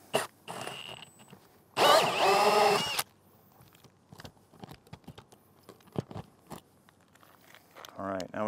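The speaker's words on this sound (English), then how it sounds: "So we're gonna drill our second hole." A power drill whirs loudly for about a second while drilling a hole in wood, then stops, followed by scattered knocks and handling noises, with a brief voice at the end.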